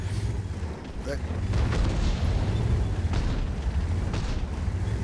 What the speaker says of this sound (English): The grill gets a shot into Struth's big American heavy tank.